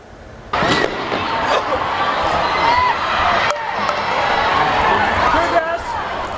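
A crowd scattering in chaos after flash bangs are fired into it, with shouts, screams and pounding footsteps in a dense, noisy mix, and voices talking close by throughout.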